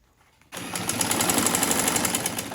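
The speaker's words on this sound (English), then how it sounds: "I'm sewing both the main panel side edges and the lining side edges together" Sewing machine stitching the side edges of a bag's main panel and lining together, starting abruptly after a quiet moment and then running in a fast, steady mechanical chatter up close.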